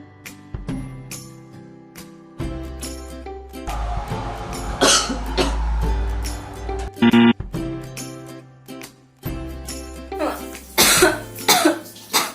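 Several bursts of coughing and throat clearing, close and fairly loud, spread across the span with pauses between them, some with a rough hoarse edge.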